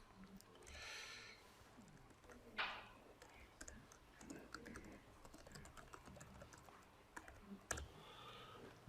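Typing on a computer keyboard, faint scattered key clicks in short bursts in a quiet room, with soft breathy voice sounds and small noises between them.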